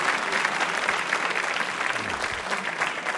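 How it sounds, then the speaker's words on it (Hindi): Steady, sustained applause from a sizable crowd at a quiz show, loud and continuous throughout with no pauses. "तालियां जोरों से बजाइए उनके उत्तर के लिए"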